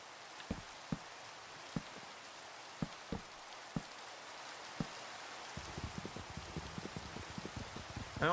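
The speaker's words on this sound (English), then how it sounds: "Problem is, it's freaking raining." Rain falling in the Minecraft modpack ATM10, a steady soft patter with scattered sharper drops at an even pace, thickening into denser pattering near the end.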